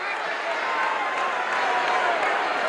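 Wrestling arena crowd cheering for Tiger Conway and Jose Lothario, a steady distant roar of voices and applause under a commentator talking throughout.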